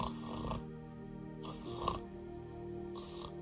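A storyteller's voice imitates a girl fast asleep and snoring loudly like a steam train, giving three long, rasping snores at a steady rhythm, close and clear with no other talk.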